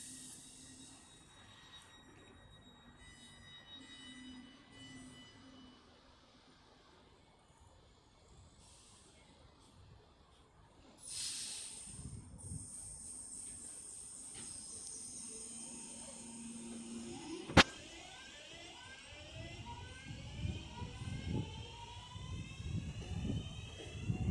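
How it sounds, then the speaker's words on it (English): A delayed Northern service departs Stoke-on-Trent station, with a quiet idling rumble first, then louder engine and wheel noise building, a sharp brief squeal or clank, and rolling rail sounds as it pulls away. "now getting ready to depart is the delayed 11:55 Northern service to Manchester Piccadilly"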